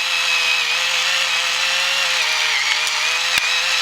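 A small electric kitchen grinder, bought in a household shopping haul, runs with a steady, loud, high-pitched motor whine that holds constant throughout, with a faint click near the end and no speech.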